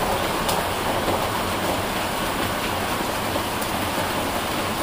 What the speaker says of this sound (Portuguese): Olha a chuva, galera. É muita, muita chuva, cara.